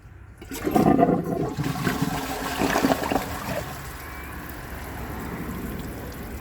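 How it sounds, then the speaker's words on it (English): A 2017 Glacier Bay high-efficiency toilet flushes with a loud rushing whoosh of water that swirls down and fades into a steady trickle as the tank refills. "Let's flush it."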